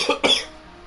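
A person coughs twice in quick succession, close and fairly loud, with brief quiet afterward and no talking.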